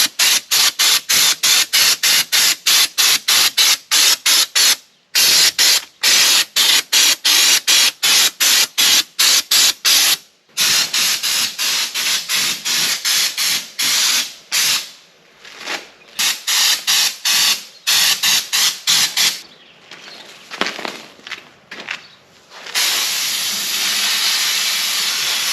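Textured coating is sprayed onto the bed of a hot rod mini truck in many rapid, evenly spaced hissing bursts, close and loud, the pulses growing more irregular before settling into a long continuous spray.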